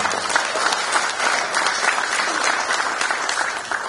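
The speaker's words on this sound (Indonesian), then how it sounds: "Boleh tepuk tangan." Audience applause at a Democrat party speech at the DPP Demokrat headquarters, a loud, dense and continuous clapping from a large crowd that does not fade across the whole stretch.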